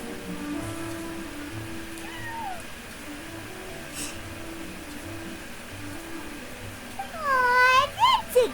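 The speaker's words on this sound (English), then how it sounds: "Aw, that's a good kitty, Sir Pouncelot." A cat meows in Genshin Impact during the Furball Fortress event, giving a couple of faint mews early and then a loud, wavering run of meows near the end over quiet ambient game music.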